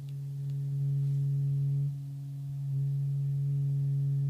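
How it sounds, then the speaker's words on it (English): Steady synthesizer tone as pure as a sine wave, with a warm tube-like quality at the fundamental, holding for the whole stretch with a slight dip midway and no voices. "sounds like a sine wave in a tube"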